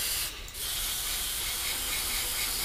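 Aerosol paint sprayed onto a Hasegawa 1/48 Harrier GR7 model kit in light misty coats: a steady, close, loud hiss running almost unbroken, with a brief dip near the start.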